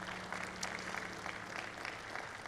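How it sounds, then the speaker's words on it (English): Sustained applause from a church audience for the choir and orchestra at an Easter presentation, a steady, fairly quiet wash of clapping with no voices over it. "let's continue to clap and thank the choir and the orchestra for all the work that they put into this"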